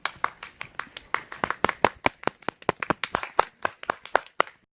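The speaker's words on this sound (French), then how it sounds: "Merci d'applaudir mesdames et messieurs, Rémi!" Audience applause at a show of wild science experiments, heard as a few distinct hands clapping in a quick, fairly regular rhythm, each clap sharp and separate rather than a dense crowd roar.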